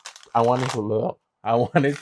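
Cards are shuffled for an angel reading, a soft papery riffle that sits mostly under a speaking voice.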